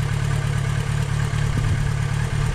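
A motorcycle engine idling steadily during a first riding lesson, a close, loud, even low rumble with a regular pulsing throb, running alone without talk.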